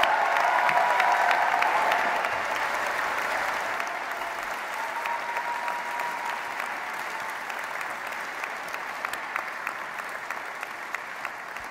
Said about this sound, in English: a big round of applause for the graduates of 2023.